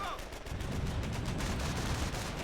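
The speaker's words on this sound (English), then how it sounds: "Front infantry is firing on us!" Infantry rifle and machine-gun fire in Company of Heroes 1, US forces against the Wehrmacht: rapid, overlapping shots crackle in a dense, continuous barrage at a steady loud level throughout.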